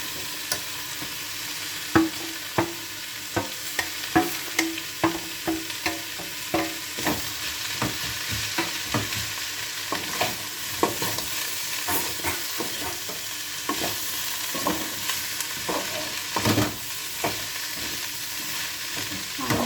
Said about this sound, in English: cook it for at least 1 minute with spring onion